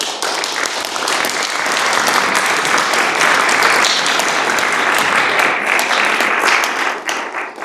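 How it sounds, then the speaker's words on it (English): Sustained, dense applause from an audience at a cabinet meeting holds loud and even for several seconds before thinning slightly at the end. "join me in giving Lottie and her valued colleagues stroke team a round of applause"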